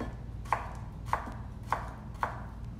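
Knife cutting vegetables into thin julienne strips on a board, four crisp evenly spaced chops about half a second apart, close and clear over quiet background.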